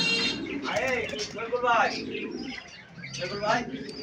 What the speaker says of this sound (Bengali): দেখেন বিভিন্ন ধরনের কবুতর আছে এখানে